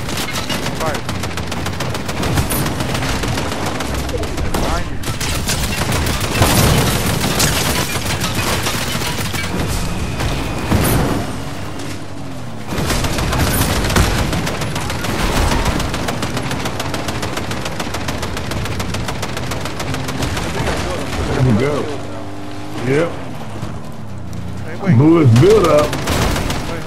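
Sustained bursts of Fortnite gunfire during a duos fight, loud rapid automatic volleys with heavier booms, pausing and resuming, while players talk over the shooting and the noise thins out toward the end.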